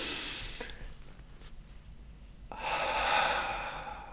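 Slow, deep breaths during guided meditation: a long exhale fades out, followed by a quiet pause, then a fuller breathy inhale, close and soft with no talking.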